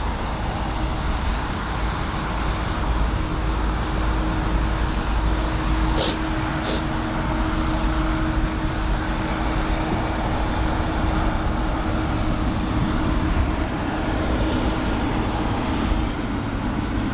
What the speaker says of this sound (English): So we've got the arrival of a Thai 777 arriving